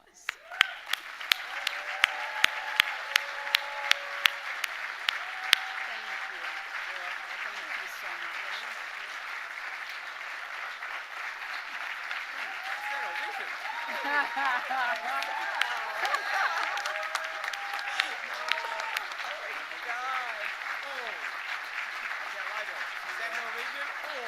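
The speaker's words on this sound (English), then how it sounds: "one last round of applause" Audience applause at a children's charity benefit gala opens with a few sharp individual claps, then settles into sustained, even clapping from a large room, with scattered cheers and voices mixed in.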